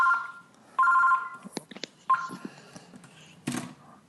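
A telephone rings during a podcast conversation, its electronic tone sounding in two or three short repeated bursts, moderately loud and close, with a few clicks and knocks in between and no talking over it.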